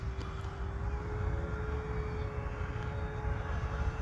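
A radio-controlled FMS P-47 Razorback model airplane in flight, its steady motor drone holding constant and fairly close throughout with no voices.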